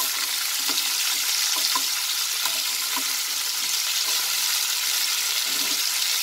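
Cauliflower and potatoes sizzle and crackle in a hot pan over a high flame, a loud, dense frying hiss with occasional stirring clicks, steady throughout with no talking.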